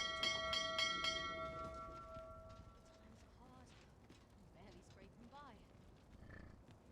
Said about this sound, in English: Is that the all aboard bell?